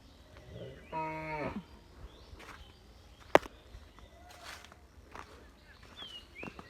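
A cow on a roadside gives one loud, close moo lasting about half a second, followed by footsteps, a sharp click and quiet outdoor background.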